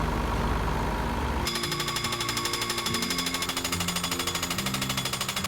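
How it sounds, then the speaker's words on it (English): Well drilling rig driving down a section of steel pipe at an off-grid homestead in Mongolia: a loud, continuous rapid mechanical hammering over a droning engine, steady throughout after a noisy start, no talk. "Now they're preparing to drive down the next section of piping."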